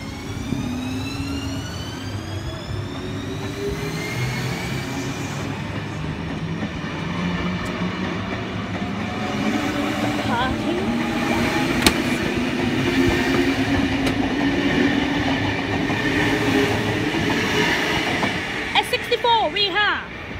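A Sydney S-set electric train pulls out of a station on a City Circle service via the airport line, its motors whining upward in pitch as it gathers speed, with wheels rumbling and clicking over the rails and a voice speaking over it.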